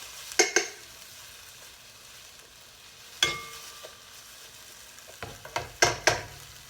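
Celery, jalapeño and orange pepper hit a hot pan over raised heat, giving a faint sizzle under a few sharp, scattered clatters of stirring and scraping, close and without talk.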